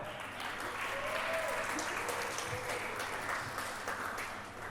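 Audience applause at a public leadership and entrepreneurship lecture, a steady dense wash of clapping held for the whole stretch, fairly distant and even, with no voices over it.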